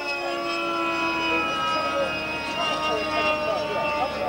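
A model jet aircraft engine drones steadily with a shifting whine during an airshow display while someone talks over it on a loudspeaker.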